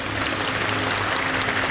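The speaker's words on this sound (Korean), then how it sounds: "큰 박수 부탁드리겠습니다." Steady applause from a crowd at a national party convention, a dense even patter of clapping sustained throughout at a constant loud level.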